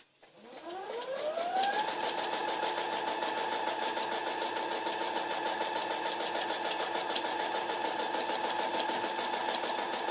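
A sewing machine stitching during free-motion quilting spins up over about a second, then holds a steady, continuous whirring drone, close and even, with no talking.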